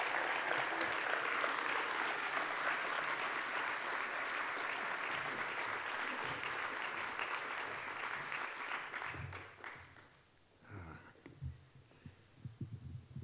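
An audience gives a lecturer a warm welcome to the stage at a glass art lecture with dense, sustained applause that fades out after about nine seconds, leaving a few scattered claps and soft thumps.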